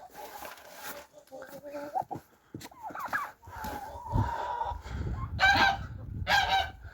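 Poultry honk and gobble in short bursts close by, with a person talking intermittently over the farmyard calls.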